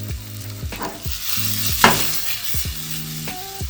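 Okra sizzles in a restaurant pan while being stirred, a loud crackling fry broken by clanks and scraping of a utensil against metal, with low tonal background hum.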